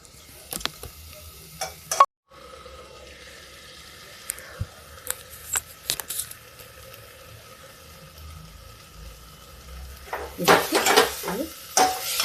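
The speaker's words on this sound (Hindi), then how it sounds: "दाल भून गई है" Masoor dal stirred and roasted in a pan over a raised gas flame, with soft scraping and clinking of a spoon against the pan, brief clatters, and a louder burst of sizzle and stirring toward the end.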